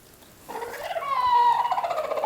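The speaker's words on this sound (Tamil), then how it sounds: "கோழி வந்து அடகாத்துக்கிட்டு இருக்குது." A brooding hen clucks and croons inside a home chicken coop, a close, drawn-out rising call that grows louder and holds for about two seconds, alone without talk.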